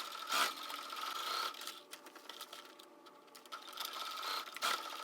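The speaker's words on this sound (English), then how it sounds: "I'll repeat for the other side and sew on that" A sewing machine stitches the seam of a drawstring bag in a close, rapid mechanical whir with ticking bursts that briefly slow near the middle and then resume.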